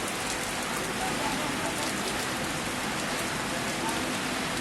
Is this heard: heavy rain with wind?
yes